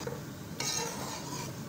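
Gram flour mixture stirred and roasted in a pan for a sweet, with a spoon scraping and a soft sizzle, close and steady, no talking.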